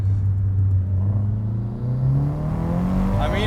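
A forged SR20 engine in a modified Nissan Silvia S15 pulls hard, its droning note climbing steadily in pitch as the revs build. The sound is close and continuous with no pauses.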